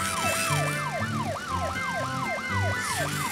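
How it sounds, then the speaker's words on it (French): A cartoon police car siren wails, sweeping up and down in a fast repeating cycle, loud and continuous over background music. "C'est la voiture de police."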